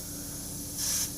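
An airbrush held a few inches from paper fires a short burst of atomized paint, a soft steady hiss that swells briefly near the end over a low background hum.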